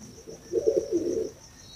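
Pigeons, including Teddy pigeons, coo once in a soft low burst of about a second, fairly close, with a faint steady background hum and no talking.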